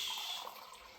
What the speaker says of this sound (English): so this is the last bit of water